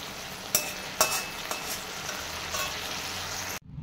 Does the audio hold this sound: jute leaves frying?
yes